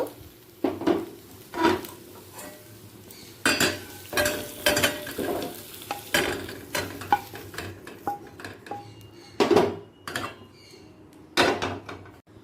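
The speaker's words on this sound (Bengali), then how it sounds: "এঁচোড়টা ভাজা হয়ে গেছে এবার অন্য পাত্রে" Fried green jackfruit being lifted out of a wok with a spatula into another pan: a series of scraping, clattering metal strokes against the pan with a faint sizzle, close and irregular, no talking.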